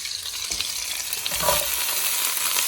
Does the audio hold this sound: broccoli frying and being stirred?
yes